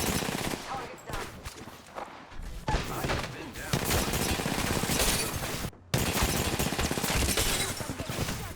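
Rapid machine-gun bursts and overlapping gunfire hit the player in a video game shootout. The volleys are loud and near, with brief pauses and one sharp drop-out, and game voices murmur beneath the shooting.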